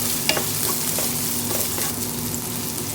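Chopped onion, garlic and ginger sautéing in a hot pan for a chicken and tomato dish, with a loud, continuous close sizzle and occasional soft stirring clicks, and no voices.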